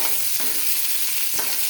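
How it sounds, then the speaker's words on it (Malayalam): Mustard seeds and chopped onion frying in hot oil for a tempering, a steady close sizzle with light stirring scrapes and a couple of soft pops. "കടുക് വറക്കാൻ ഉള്ളി അരിഞ്ഞത് ഇട്ട് കൊടുത്തു."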